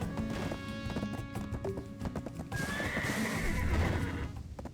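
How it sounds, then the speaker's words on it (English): Video game horse whinnies with a rising neigh over a steady clatter of clip-clopping hooves, mixed into busy game sounds and music. "Whoa, horsey!"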